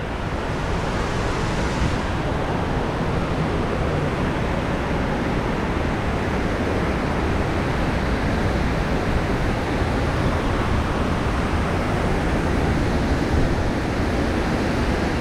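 Water rushing steadily out of the Big Flowage Dam, a loud, continuous broadband roar with no breaks or talk, like heavy surf close by.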